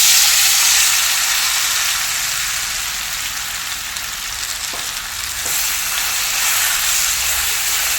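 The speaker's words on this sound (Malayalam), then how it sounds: "നമ്മൾ ഈ ഉരുകിയ നെയ്ക്കകത്തോളം നമ്മൾ അരിഞ്ഞ് വെച്ചേക്കുന്ന ചക്കപ്പഴം ഇട്ട് കൊടുക്കാം" Chopped ripe jackfruit frying in melted ghee in a pan, a loud, steady close sizzle with faint stirring taps and no talking.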